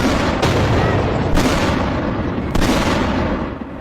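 Explosions from a missile strike on a highway, caught in news footage: three sharp blasts about a second apart, each over a loud, constant roar of rumbling noise.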